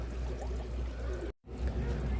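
Pre-warmed water poured into an aquarium tank over an under-gravel filter, a steady close broadband splashing that cuts out briefly and then resumes.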